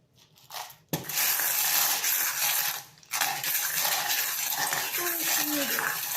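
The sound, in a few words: charms being tossed for a charm reading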